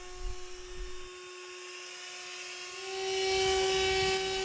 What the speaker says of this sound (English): it does a great job blowing the leaves off the curb